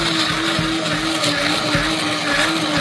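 Blender whirring loudly and steadily as it purees creamy pumpkin soup, a constant motor drone with a strong hum close by and no talking.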